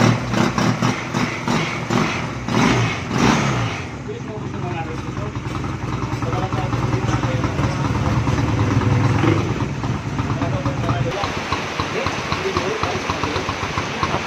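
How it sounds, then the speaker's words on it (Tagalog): A Honda Rebel 250 motorcycle, just revived after not starting, idles steadily up close with a loud, even engine rumble that continues through the whole stretch and swells slightly partway. "umaandar na yung Honda Reveal natin"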